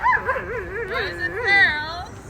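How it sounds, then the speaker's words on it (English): Dogs at a tent encampment give high, wavering whines and yips close by, one drawn-out vocal run sliding up and down, with a voice present alongside. "you see dogs"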